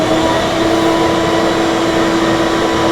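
A shop vacuum switched on in a basement runs as a steady, loud motor drone with a constant whine, unbroken throughout and with no voices.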